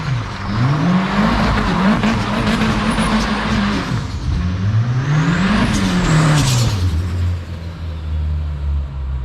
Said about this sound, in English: loudest turbo chatter on the planet, loudest dose